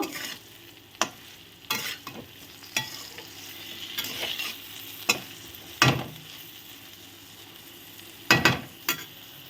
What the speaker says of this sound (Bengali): এটা দিয়ে সুন্দর করে নেড়ে নেব, ভেজে নেব।